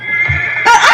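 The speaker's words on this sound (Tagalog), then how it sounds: "Misuki ang kabayo!" A horse whinnies sharply and close, a loud bright neigh that rises into a shrill, wavering burst in a single short call.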